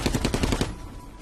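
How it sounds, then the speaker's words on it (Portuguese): Rapid machine-gun bursts from bridge towers in a World War II battle, a loud rattling fusillade lasting about half a second before cutting off into a low rumbling quiet. "as metralhadoras nas torres abrem uma saraivada mortal de tiros"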